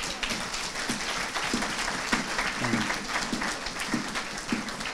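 A church congregation applauds and cheers in acclaim of the name of Jesus, with dense, sustained clapping and crowd noise that holds steady throughout at moderate loudness.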